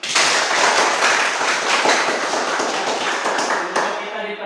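An audience applauds together at the close of a classroom lesson, with dense, steady clapping that stays loud and close throughout before easing slightly at the end.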